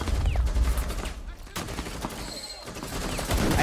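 Gunfire in the video game Rainbow Six Siege on Xbox One, a loud, close burst of rapid shots fired in bursts, with a player talking over it.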